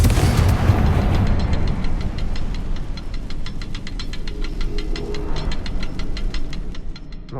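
Confringo blast spell cast in Hogwarts Legacy, a loud rumbling burst over dense continuous game noise, followed by a rapid train of sharp repeated ticking crackles that runs for several seconds.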